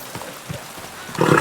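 A horse in the medieval game Kingdom Come Deliverance 2 moves with a few soft, spaced hoof thuds, then a louder burst of snorting or shuffling near the end, all close by.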